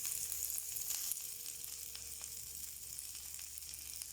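A small amount of hot oil sizzles steadily in a pan for a chicken kurma, a faint, even frying hiss with a few light crackles and no voices.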